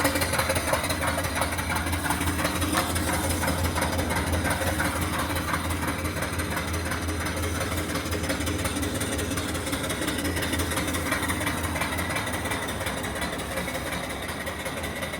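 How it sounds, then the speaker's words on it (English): A steady chuffing steam engine exhaust running up the stack of a return flue boiler, a rough rumbling drone with fast pulsing texture, close and fairly loud. "the engine exhaust goes right up the stack and into there, and you can probably hear it"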